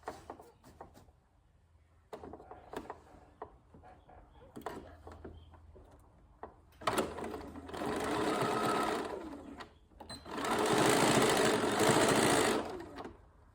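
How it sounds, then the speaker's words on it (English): A sewing machine stitches across the corner of a zipper pouch: scattered clicks and handling noises at first, then two sustained loud whirring bursts of stitching, close up, with no voices. "find another one to sew across"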